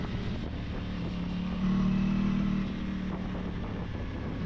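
Aprilia Tuono 660 middleweight naked motorcycle engine revving hard above 7,000 rpm, a loud steady engine drone that swells in the middle and then eases back, heard close with wind noise and no talk.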